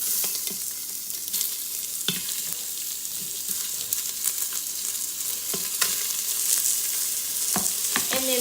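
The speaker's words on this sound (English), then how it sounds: "And then we're just going to let those saute a little bit." Chicken pieces sauté in a hot pan with a loud, continuous sizzle, broken by occasional scraping and stirring knocks, with no one speaking.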